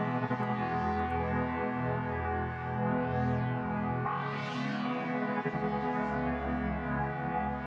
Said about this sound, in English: the first sound here that I'm using is the CS80 synth